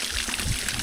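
Water pours steadily from a village water supply in rural Vietnam, a brief, soft, continuous trickle and splash with no voices.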